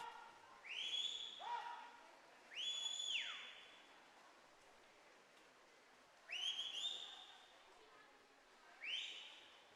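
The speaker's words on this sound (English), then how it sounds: "Coach Brian on the sidelines here doing his patented whistle, arm movements, all of that good stuff." A coach's whistle at an outdoor track meet during a distance session, sounding as four loud, shrill blasts with rising and sliding pitch, spaced apart over a quiet background.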